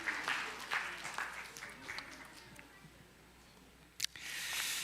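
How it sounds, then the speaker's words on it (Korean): A church congregation at a Sunday morning service gives brief encouraging applause, faint scattered claps that fade out, then a short sharp burst near the end. "우리 다 같이 박수로 한번 수고하십시오 하고 격려해 주세요."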